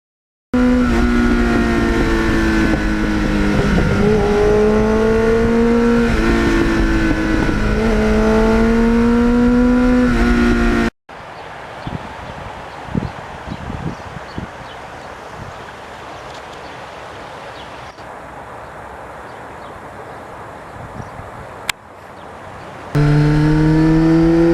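A 1983 Suzuki XN85 Turbo motorcycle on a ride gives a loud, droning engine note with wind rush that rises and falls slightly, then cuts to quieter ambient noise before the engine returns near the end.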